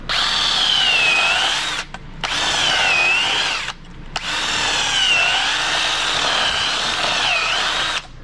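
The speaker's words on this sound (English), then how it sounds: "one way you can get the pin out of the arm is to just drill around your bushing. You just start drilling out the rubber." A power drill bores out the rubber bushing of a front suspension arm on a 1970 Plymouth Fury, its loud whining howl rising and falling under load in three long runs separated by two short stops.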